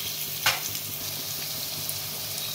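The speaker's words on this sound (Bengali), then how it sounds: "একটু হলুদ, আলুগুলো দিয়ে একটু ভেজে নেব।" Potatoes frying with turmeric in a pan of oil make a steady, close sizzle throughout, with one brief sharp crackle early on and no talking.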